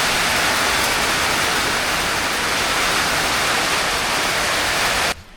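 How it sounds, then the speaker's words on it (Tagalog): Heavy rain pours at Sagada in Mountain Province, a dense, loud, steady wash of noise that cuts off abruptly at the end, with no talking. "Sobrang lakas ng ulan."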